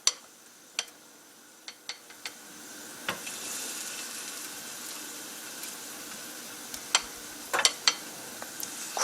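Battered oysters frying in a hot pan, a steady low hiss of oil with scattered sharp pops and crackles, some clustered near the end, close and fairly quiet.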